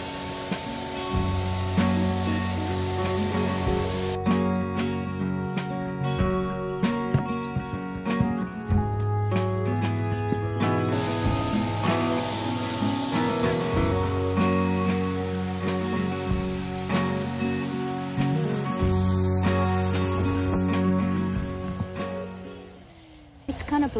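A Wagner paint sprayer coats a chair with white paint outdoors in full sun, giving a steady hiss that runs loud and close over a persistent musical background with little break.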